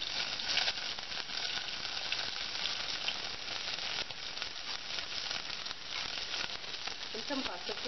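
Tempering sizzles steadily in a pan as green chillies and curry leaves fry for a gongura chana dal curry, a fairly soft, continuous crackling hiss with small pops.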